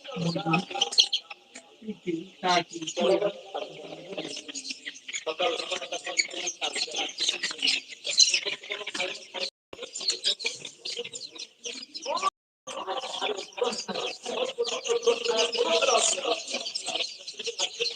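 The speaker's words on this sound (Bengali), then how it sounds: "এক থেকে সকল বয়সের হাঁস মুরগি বাচ্চা" Many chicks and ducklings of mixed ages, including desi, Sonali, turkey and Chinese duck young, chirp and peep in a dense, continuous chorus up close, with someone talking over parts of it.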